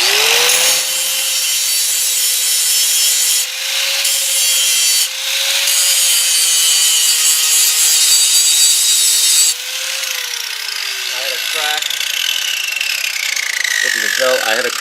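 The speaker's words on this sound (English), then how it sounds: "I'm just grinding down the bolt holes where I welded." An angle grinder works down welded bolt holes on a riding mower's hydrostatic drive mount, a loud, harsh continuous grinding whine that rises and settles as pressure changes, with brief pauses before spinning down.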